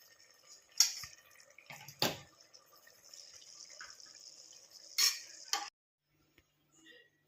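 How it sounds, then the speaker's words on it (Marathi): Ration rice khichdi being mixed with hot water in a pot, with several sharp metallic spoon clinks against the pot and a soft stirring wash between them, close and fairly quiet before fading to near silence. "तर आता आपण हे टाकून घेऊया याच्यावरती आणि मिक्स करून घेऊया"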